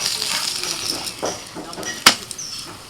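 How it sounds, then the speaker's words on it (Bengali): Onion paratha fries in oil in a pan, giving a steady close sizzle with a few soft scraping strokes and one sharp clack partway through. "দেখো যত ভাজা হচ্ছে তত পরোটা আরও সুন্দর দেখতে হয়ে যাচ্ছে"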